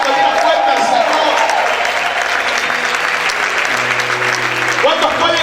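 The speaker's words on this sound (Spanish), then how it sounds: "No puede usted gritar y aplaudir fuerte al Señor." A church congregation applauds loudly and continuously in a dense, sustained wash of clapping, with voices and a low musical hum mixed underneath.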